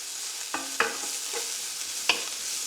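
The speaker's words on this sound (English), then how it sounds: "And we'll let that fry off for about 4 or 5 minutes till it's more or less cooked." Bacon and leek frying in a pan for a chicken pie, a steady soft sizzle broken by a few sharp scrapes and clinks of a utensil stirring against the pan.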